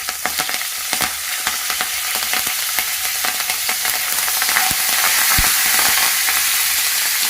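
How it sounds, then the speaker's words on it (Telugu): Curry leaves hit hot oil while cooking Rayalaseema uggani, a puffed rice dish, giving a steady, close crackling sizzle with sharp pops and spits throughout and no voices. "దోరగా వేయించిన తర్వాత కరివేపాకు వేసుకోండి."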